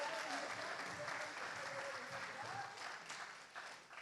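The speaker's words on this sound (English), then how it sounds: "big round of applause for Jazz!" Audience at a gala event breaks into clapping, a dense, steady round of applause from many people that holds for several seconds before tapering slightly at the end.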